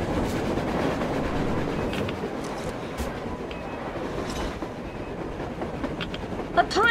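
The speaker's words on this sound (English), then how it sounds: "A train! A damn train on the surface!" A train passes on the surface in the video game Metro Exodus: a broad, steady rolling rumble with rhythmic clickety-clack of wheels on rails, holding at moderate loudness with no voices.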